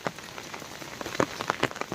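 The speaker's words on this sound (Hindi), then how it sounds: "बहुत तेज़ बारिश हो रही है अभी भी" Heavy rain falls in the hills in a steady wash of patter with a few louder drops close by, and no voices.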